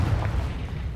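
A Confringo fire-blast spell explodes in Hogwarts Legacy, a dense low booming rumble that fills the whole moment, loud and sustained without a sharp attack.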